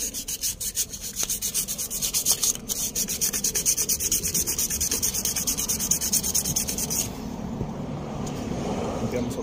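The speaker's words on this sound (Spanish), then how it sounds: "pero en todos modos vamos a lijar." Rhythmic back-and-forth rasping of sanding on a car surface before installing a siren, steady and close, easing into a softer scrubbing near the end.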